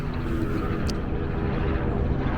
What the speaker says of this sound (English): Thank you very much, helicopter, for getting in the way of the video.